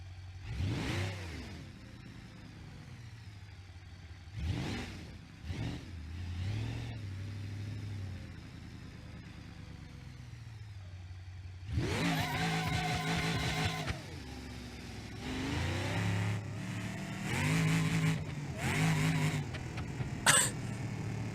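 Revving engine of a cop car in BeamNG.Drive, a driving game, rising and falling in several bursts, with a louder sustained stretch of throttle midway and a few sharp blips toward the end.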